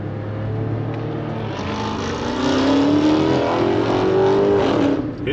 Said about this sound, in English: I heard all the noise from that Dodge right there and thought that my engine was flying apart.